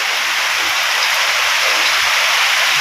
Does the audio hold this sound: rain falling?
yes